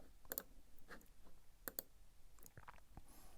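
Mouse clicks on next-question buttons during an online exam on a computer, a series of sharp, close, quiet clicks, some in quick pairs, spread irregularly across a silent background.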